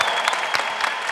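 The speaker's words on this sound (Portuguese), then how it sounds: "Pode aplaudir, gente." Audience applauding in a church gathering as priests are welcomed, a dense, steady burst of clapping filling the room with a few sharper peaks, no voices over it.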